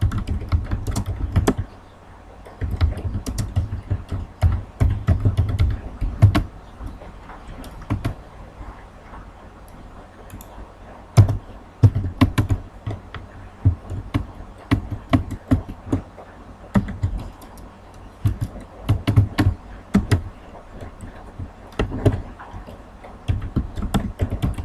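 Fast, irregular typing on a computer keyboard, a steady patter of close, crisp key clicks with occasional louder thumps and brief pauses, continuing for the whole stretch without any talking.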